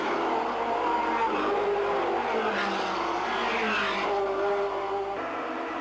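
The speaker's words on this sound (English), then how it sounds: "It's a very tight squeeze round that first right-hander, but Pirro comes out in front" 1985 Formula 3000 race cars jostle through a tight right-hander on a narrow street circuit, a continuous loud roar of engines rising and falling as the pack passes.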